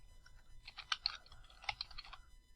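Quiet computer keyboard typing, a quick run of soft clicking keystrokes in two short bursts, close by and alone.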